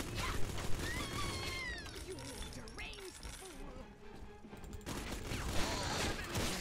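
Gunfire from an automated machine turret in Bioshock 2, with rapid shots, metallic clinks and debris over a dense, busy game soundscape throughout, held at a moderate level.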